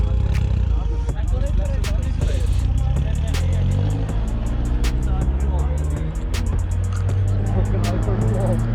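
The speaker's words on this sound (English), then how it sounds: "So yeah, he's taking out the OPC quick. He wants to hear what his car sounds like from the outside." A tuned Opel Corsa OPC driving past outdoors, its engine note loud and rising and falling with sharp popping bursts, while people talk nearby throughout.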